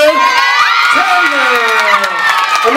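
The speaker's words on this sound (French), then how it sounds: "On applaudit pour elle." A crowd at a school cultural day ceremony cheers, whoops and applauds loudly for a graduating pastry and catering student, with excited shouting voices filling the room.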